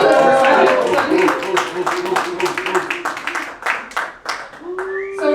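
An audience claps at a live stage show, with a burst of brisk, fairly close clapping thinning into scattered claps while a voice talks over it and music comes in at the end.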